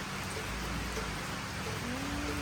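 Steady rain falls after a long night of rainfall, a dense, even hiss of drops hitting surfaces that runs without pause, with a faint voice briefly in the background.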